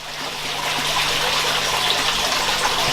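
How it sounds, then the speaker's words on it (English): Water from an aquaponics sump pump pours and splashes steadily, a close, even gush with a faint low hum beneath it and no pauses. "The sump still seems to be working, doing its thing."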